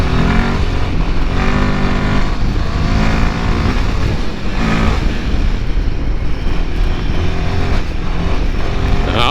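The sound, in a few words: Royal Enfield Himalayan 450 motorcycle riding through mud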